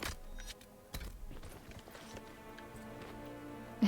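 Horse hooves clip-clop in the video game Dragon Age Inquisition, a series of sharp, regular beats over quiet game ambience.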